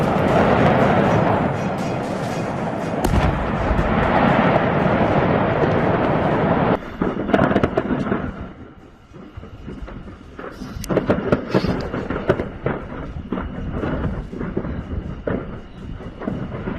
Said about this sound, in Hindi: बुल्गारिया में फायरवर्क्स फैक्ट्री में धमाका हुआ है